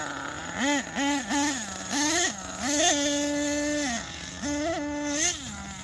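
An outboard boat engine with a three-needle carburetor runs nearby, its pitch rising and falling through repeated revs and blips before settling into a steady idle.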